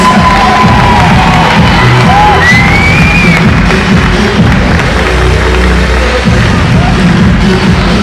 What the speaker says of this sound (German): Applaus nochmal für alle Teilnehmer mit Kategorie Videogames!